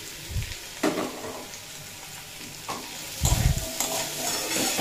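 Pumpkin stalks frying with chilli and spices in a pan, a steady sizzle broken by several louder scraping stirs of the spoon, close and without talk.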